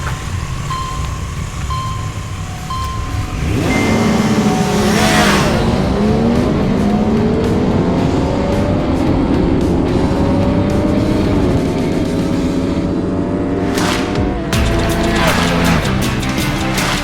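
Naked 800 motorcycles, a KTM, an MV Agusta and a Triumph, accelerate hard in a drag race, engines roaring loud and close as they rev up through the gears, with a brief shift dip and a second wave of engine noise near the end.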